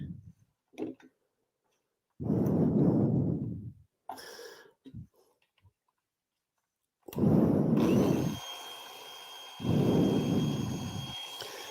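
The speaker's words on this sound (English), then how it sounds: "I will bring back my 80 grit disc" A wood power carving tool fitted with an 80 grit sanding disc shapes the surface at an angle in several loud bursts, separated by short pauses with small clicks and taps.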